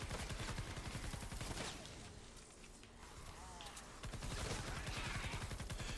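Assault rifle gunfire in Fortnite Save the World, sounding as dense rapid bursts of automatic shots that drop away into a short lull midway and then resume at full intensity.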